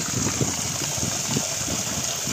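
Water from a 2-inch, 900W BLDC solar pump gushes steadily into an open outlet. The flow is a continuous rushing splash at moderate level with no break.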